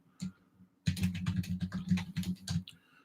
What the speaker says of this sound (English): I'm typing it now to see